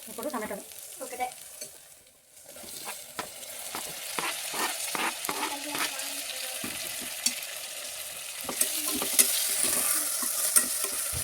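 Tomatoes frying in oil inside a steel pressure cooker with onions and ginger-garlic paste: a continuous close sizzle broken by repeated spatula scrapes and stirring strokes against the metal, growing slightly louder toward the end, without speech.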